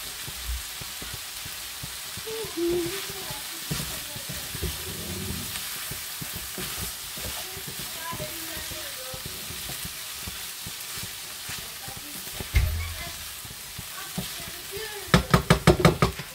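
Mushrooms and peppers frying in a pan give a steady, even sizzle throughout, with occasional utensil knocks and a burst of sharp clatter near the end, while people talk quietly over it.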